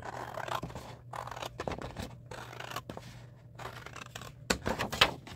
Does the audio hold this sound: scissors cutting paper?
yes